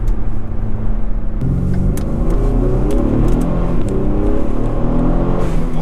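A 2014 Ford Taurus SHO running E30 fuel accelerating hard, a loud close rumbling engine rising through the revs with a brief shift break, heard from inside the car.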